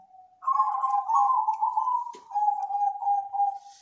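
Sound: zebra dove (perkutut) cooing

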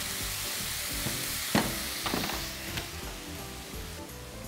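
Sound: eggplant and garlic frying in a pan

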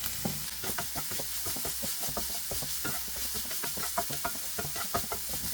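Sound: stirring a paneer and onion mixture in a pan

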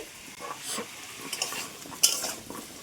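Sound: potatoes frying and being stirred

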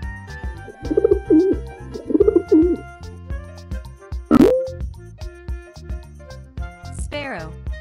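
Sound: pigeon cooing

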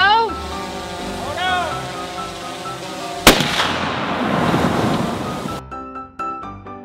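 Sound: massive fireball explosion

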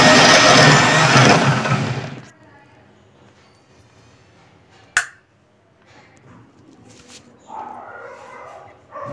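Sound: mixer grinder blending drink ingredients

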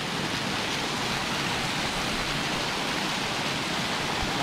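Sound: waterfall at Upper Gartmore Falls

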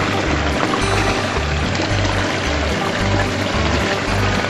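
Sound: water flowing through home-built recirculating sluice box

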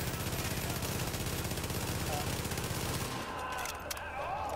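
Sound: enemy shooting in a video game

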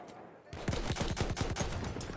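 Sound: rifle gunfire, from the video game Battlefield 1

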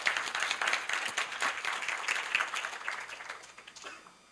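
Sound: audience applause

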